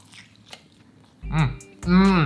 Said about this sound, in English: a quick little crunch test to make sure we pass that part of the test